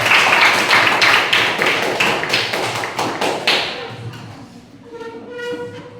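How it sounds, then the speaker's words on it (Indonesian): A classroom group claps for a presenting team in a quick series of sharp, loud rhythmic claps that stop after a few seconds, followed by a quieter voice. "tepuk tangan dulu untuk kelompok ceria"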